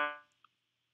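Piano voice in Chrome Music Lab Song Maker sounds one bright harmonic note that decays over a fraction of a second, followed by a faint tick, alone with no talking.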